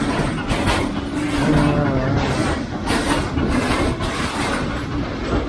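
Trains rumble past a railway platform in a steady, loud wash of rolling noise and wheel clatter, with faint tonal squeals threading through and no talk.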